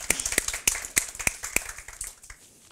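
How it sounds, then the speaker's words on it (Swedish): Sparse hand claps from a small audience at a Swedish talk on motivating volunteers, a handful of sharp separate claps spread over a few seconds, fairly quiet and fading out. "vi ger dem också en applåd"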